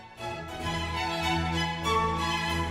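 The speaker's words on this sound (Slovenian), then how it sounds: "to je samo zvonec" A doorbell-like chime plays a sustained melodic tone with rich harmonics, ringing steadily for a few seconds with a second note near the end, no talking.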